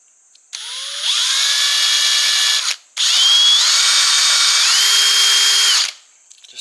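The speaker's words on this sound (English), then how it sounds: "This is a Unibit." A power drill fitted with a Unibit step bit whines loudly and steadily in two long bursts separated by a short pause, with the pitch stepping upward as the bit works through the material.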